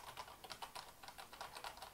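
Keys pressed on a Roccat ISKU keyboard produce a steady run of quick, soft clicks and taps at a close distance, with no voices.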